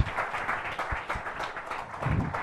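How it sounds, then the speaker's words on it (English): An audience applauds Mr. Jayesh as he comes up to present at a business English course, a short burst of many hands clapping in a room, moderately loud and evenly sustained. "So please give a round of applause for"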